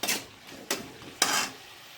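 Bursts of hissing and scraping from fried rice stirred in a hot pan, three distinct swishes about half a second apart, close up with no voices.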